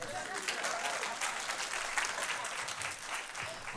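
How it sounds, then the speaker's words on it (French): An audience claps together, a dense steady patter of applause lasting a few seconds, with a voice faintly audible underneath. "Est-ce que vous pouvez applaudir David"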